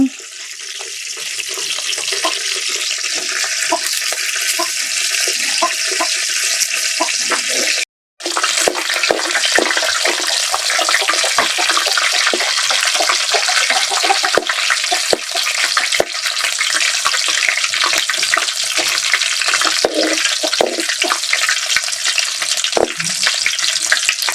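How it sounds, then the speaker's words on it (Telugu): Loud, close frying hiss as tempering spices go into hot oil for a Telugu tomato dal, a dense continuous sizzle with stirring clatter and a brief break near the middle, no voices. "ఇప్పుడు మనం పప్పుకు తాలింపు వేసుకుందాము"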